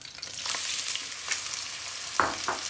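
Diced white onions sizzle steadily in hot oil for an Indian restaurant-style mushroom bhajee, with a close, constant frying hiss and a few stirring scrapes.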